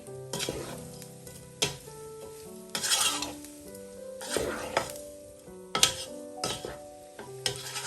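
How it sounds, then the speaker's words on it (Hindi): A spoon stirring white pepper and chicken powder into a sizzling chicken Manchurian pasta dish, sharp metallic scrapes and clinks against the pan recurring irregularly over a gentle frying hiss, with background music and no talking. "1 teaspoon white paper, 1 table spoon chicken powder. अच्छी तरह मिक्स कर लेंगे।"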